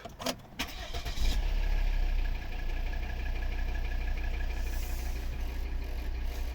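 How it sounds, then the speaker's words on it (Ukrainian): A Volvo V70 or V60 wagon's five-cylinder diesel engine catches with a short rattle, then settles into a steady, even idle, heard close and alone. "Тут у нас п'ятициліндровий дизельний двигун"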